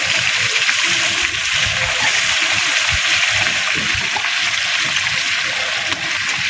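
Fresh bottle gourd cooking in a pan makes a loud, unbroken hiss of sizzling moisture throughout, with faint stirring beneath it.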